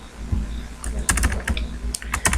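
Typing on a computer keyboard, with quick irregular clusters of close key clicks and a soft background hum.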